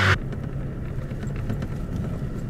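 Roadside traffic in Virginia or North Carolina, heard as a steady, continuous rumble of passing vehicles with a brief sharper noise at the very start and no voices.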